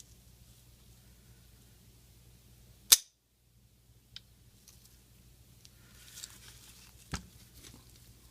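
An AR-15 rifle function check produces one sharp metallic snap of the trigger, followed by fainter clicks and a later rattling clack from the charging handle being cycled in a quiet room.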